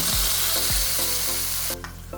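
Ginger-garlic paste sizzles loudly and steadily in hot oil for a Kerala-style fish curry, with a few dull knocks from the pan, and the hiss drops off sharply near the end.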